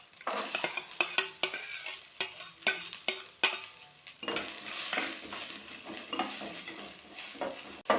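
Sliced onions sizzle and are stirred in a pan for a drumstick-flower thoran along with chili, shallots and curry leaves; brisk, rhythmic spatula scrapes and clinks punctuate a steady close-up frying hiss.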